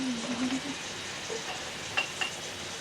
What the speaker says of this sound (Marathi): एक एक करून मी आता सगळं बघता तळून घेते